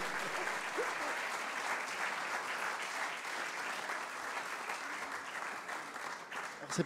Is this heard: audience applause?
yes